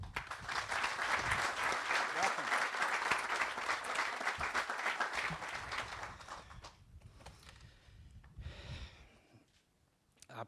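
Audience applause fills a ceremony hall for University of Kentucky men's golf coach Brian Craig, loud and sustained for about six seconds, then fading into scattered claps, murmurs and a brief voice.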